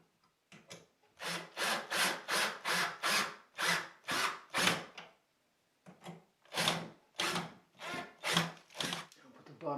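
Door hinge going onto a bathroom door: a long run of rhythmic, evenly spaced strokes like screws being driven into wood, close and fairly loud, pausing briefly midway before resuming.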